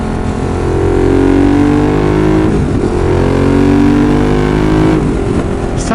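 A Ducati 916 motorcycle engine roars loud and close, revving up and down in a continuous, throaty drone while riding, with rising and falling pitch throughout.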